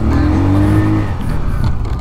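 An FKM Space 150 motorcycle accelerates loudly from close by, its engine note rising and shifting as it pulls away, with a continuous roaring drone throughout.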